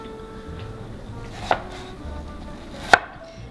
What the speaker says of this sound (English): we're gonna chop up this onion as well